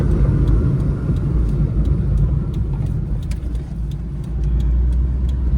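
A vehicle engine rumbles steadily from inside the cabin, low and continuous, with road noise and a slight rise in drive as it gathers speed.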